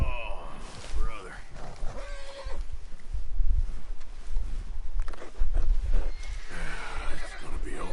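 A horse in Red Dead Redemption 2 whinnies loudly, then hooves clip-clop and other neighs follow, all mixed under steady game sounds and a voice talking.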